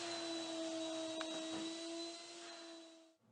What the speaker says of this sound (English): The surfactants will help carry the abrasive up into suspension so it comes into the wet vac more readily.